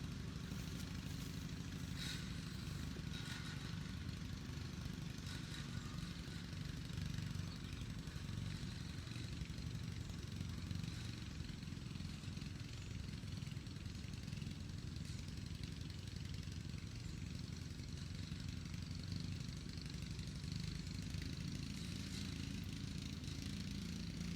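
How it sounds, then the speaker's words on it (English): A faint, steady engine drone hums in the distance for the whole stretch, like a lawn mower running somewhere far off, with no talk. "Seems like there's always somebody cutting their grass or something when I'm doing a video."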